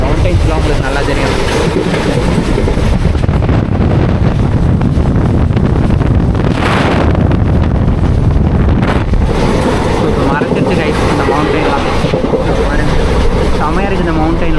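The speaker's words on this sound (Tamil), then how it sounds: "அப்படியே ஜில்லுன்னு காற்று வருது அந்த மவுண்டைனால்" Cool wind from the mountains buffets the microphone on a train journey through Kerala, a loud, continuous roaring rush mixed with the rumble of the moving train.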